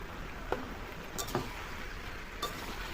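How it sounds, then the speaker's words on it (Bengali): Ginger-cumin paste sautéing with mixed vegetables in a pan, a soft steady sizzle broken by a few separate scrapes and clinks of stirring, close and moderately quiet, with no voices. "আদা জিরে বাটা দিয়ে সুন্দর করে কষিয়ে নেবো একটু"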